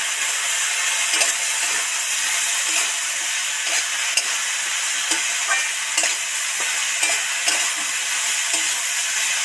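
A salted spice mixture for snake gourd with poppy seed paste fries in a pan, giving a constant hissing sizzle broken by regular scrapes and knocks of a spatula stirring it.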